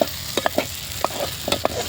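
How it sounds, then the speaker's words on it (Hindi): Dal (lentils) being dry-roasted in a pan, heard as a soft continuous sizzle broken by scattered scraping and stirring knocks, close by with no voices. "इसको थोड़ा सा हम कर लेंगे फ्राई। फ्राई बोले तो थोड़ा सा इसको भून लेंगे दाल को।"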